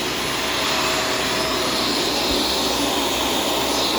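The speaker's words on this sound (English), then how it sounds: "I do really like this vacuum." A Shark self-cleaning vacuum cleaner runs on a hard floor with a loud, steady, whooshing whine of motor and suction, close up and unbroken.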